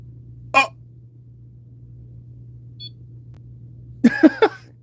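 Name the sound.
device beeping in reply during ghost hunting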